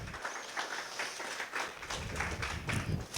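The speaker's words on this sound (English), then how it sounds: "And we applaud her" Audience applause at a 2022 BRMI presentation, a steady, moderately loud wash of many hands clapping for a few seconds without talk.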